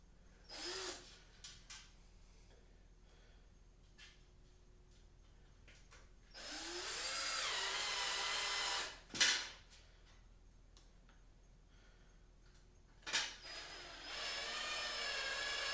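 A power drill drives screws into a metal reptile enclosure, with a few short whirring bursts and one longer run, separated by quiet pauses and small handling clicks.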